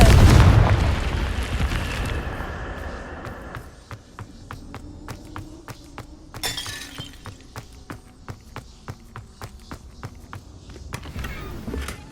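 A Confringo blasting spell in Hogwarts Legacy: a loud opening boom with shattering debris, fading into a long tail of footsteps and scattered clicks and thuds, with a second sharp burst partway through.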